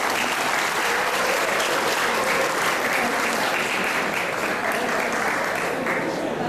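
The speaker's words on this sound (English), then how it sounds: "Another big round of applause," Loud, sustained applause from a large crowd at a resort's 30th anniversary celebration in Palau, a thick steady roar of clapping with faint talk underneath.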